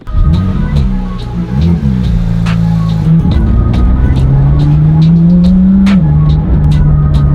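A Porsche GT3 engine drones loudly and steadily from inside the cabin, its pitch rising through the gears with brief dips between shifts.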